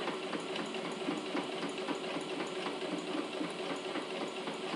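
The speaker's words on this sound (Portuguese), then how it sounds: "Não tem pressa, vem costurando bem devagar" A sewing machine stitches slowly and steadily while making a zippered toiletry case, a faint even mechanical whir with a soft repeating rhythm.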